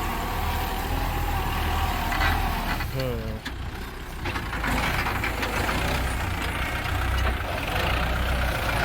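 A steady, loud engine drones throughout from a 50-horsepower Kubota tractor plowing a rice paddy, with voices talking over it.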